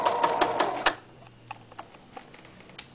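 A sewing machine runs for about a second, stitching two sides of an apron together, with a rapid mechanical whir, then stops, leaving scattered soft ticks and clicks.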